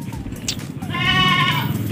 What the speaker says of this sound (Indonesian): Ini sebenarnya dikit kambingnya mas.